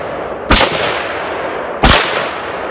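Two loud, close gunshots from a scoped rifle with its selector switched from safety to fire, fired outdoors about a second apart, each a sharp blast with a short trailing echo over steady background noise.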